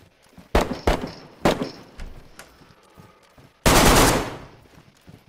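Gunshots from a weapon in the video game DayZ: several sharp reports in quick succession early on, then a louder, sustained burst of fire lasting about a second, close and loud with no talk.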